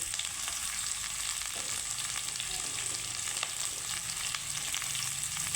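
Potatoes and spiny gourd (kakrol) fry in oil in a pan, giving a steady, dense sizzle that runs unbroken and close throughout with no voices.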